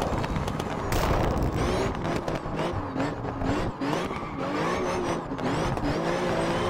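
A Porsche rally car engine in the Richard Burns Rally video game, on an Italian stage, revs hard and continuously up close, with loud rising and falling pitch sweeps as the driver shifts gears.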